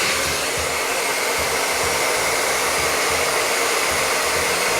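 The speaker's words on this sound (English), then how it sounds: "Let the blow dryer do the work." A blow dryer blasts continuously at close range while styling hair with a brush, a loud steady whoosh with no talk.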